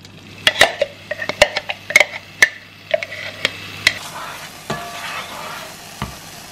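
Ginger, garlic and lemon fry in a splash of olive oil, a soft sizzle running under a quick series of sharp utensil clicks against the pan that thin out toward the end.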